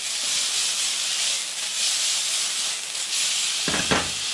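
Bacon sizzles in a pan with a steady broadband hiss that continues throughout, and a brief clatter near the end.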